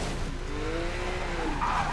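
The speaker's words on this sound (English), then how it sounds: "Let's do some drifting for you guys." A car in Need for Speed: Most Wanted (2012) drifts with a continuous rising tire squeal over a steady engine roar, loud and close for about two seconds.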